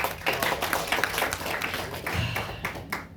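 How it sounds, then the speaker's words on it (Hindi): Brief scattered clapping from a seminar audience in an indoor hall, moderately quiet and uneven, a few claps rising and fading over a few seconds. "आप लोगों के लिए जोरदार ताली"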